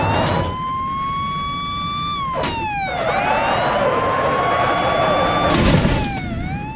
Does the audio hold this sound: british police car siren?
yes